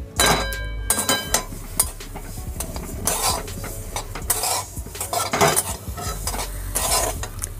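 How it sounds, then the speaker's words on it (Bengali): White sesame seeds dry-roasting in a kadai over very low heat, with a utensil steadily stirring and scraping the metal pan in close, continuous clinks and rasps. "एरपर शुकनो कड़ाई आमी सादा तिलटा भेजे नेब।"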